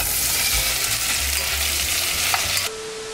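Sausage sizzles and fries in butter and oil in a pot for Louisiana-style jambalaya, a loud, steady crackling hiss up close that drops to a quieter level near the end.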